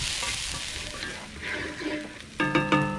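Shallots and garlic frying in a pan as they are stirred, a soft sizzle with scraping spoon sounds and brighter clatter near the end, no voices.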